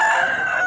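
A rooster crows at a busy rural livestock market in Vijayawada, one sustained, loud, close call with a steady strained tone throughout.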